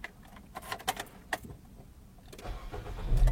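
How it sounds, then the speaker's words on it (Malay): A car's engine cranks and catches after a few clicks and key rattles, then settles into a low, rising idle nearby, with no speech over it. "Jadi sekarang saya akan hidupkan kereta ni"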